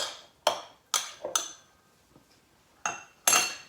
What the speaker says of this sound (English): So now you have to stir it for 30 seconds.